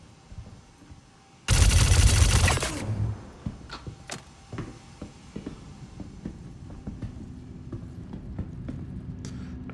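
Gunfire in Star Citizen opens with a loud burst of rapid automatic fire, followed by scattered sharper shots and clicks at a distance over a low hum.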